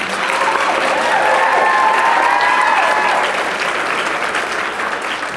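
Students at a school gathering applaud themselves with loud, sustained clapping from a crowd, mixed with voices and a few whoops throughout.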